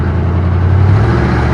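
A 1958 Plymouth Suburban two-door wagon's engine runs steadily under way, a close, continuous mid-pitched drone with a light rise in revs and no voices.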